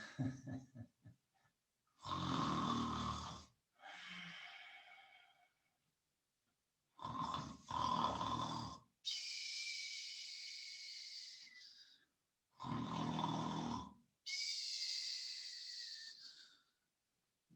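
Voices imitate loud snoring in several long, rasping bursts separated by short pauses, some low and throaty, others high and hissing.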